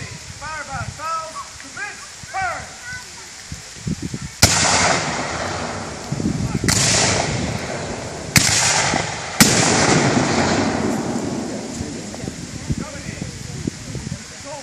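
Black-powder musket volleys at a Cheatham Hill battlefield demonstration: four loud, sharp reports spaced a few seconds apart, each rolling out into a long echoing rumble, with faint crowd voices before the first shot.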